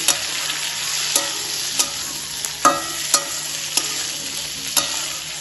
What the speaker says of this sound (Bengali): বরবটিটাও সব কিছুর সাথে মিশিয়ে ভেজে নেব।